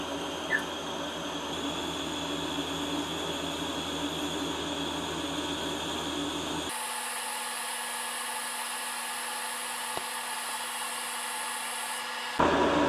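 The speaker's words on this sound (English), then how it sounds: "we're going to go down these beveled flat parts on top and the bottom of this thing with 1/16 inch welding rod" Stick welding with a 1/16 inch rod at about 90 amps gives a steady, close crackling hiss that shifts abruptly partway through and continues evenly until a sharp change at the very end.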